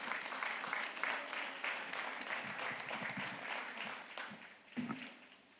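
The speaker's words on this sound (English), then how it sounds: "A big round of applause." Audience applauding at a graduation ceremony, a fairly faint wash of clapping with uneven swells that fade toward the end.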